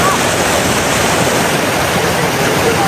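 Water pours continuously over a small check dam on a stream in a Wayanad village near Thirunelli, a loud, close, unbroken rushing wash.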